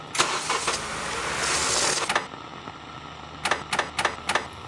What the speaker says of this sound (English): as if mocking me, the car won't start.